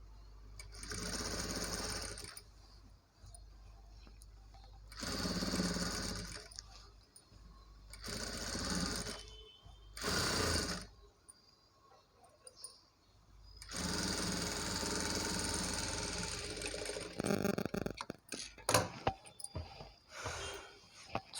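A sewing machine top stitches a Punjabi dress top in several bursts of steady whirring, separated by short pauses, then a longer run followed by quick start-stop stitches, close and clear with no talking.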